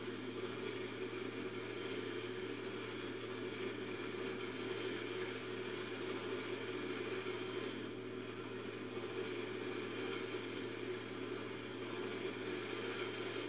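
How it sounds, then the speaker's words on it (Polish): Helicopter flying in the Battlefield 4 video game, a steady droning rotor and engine hum held constant throughout with no talk. "Helikopter na dwa."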